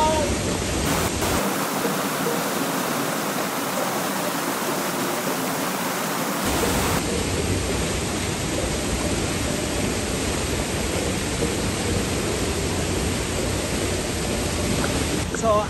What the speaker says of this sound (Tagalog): ito ang Bunga Falls o Twin Falls dito sa Nagcarlan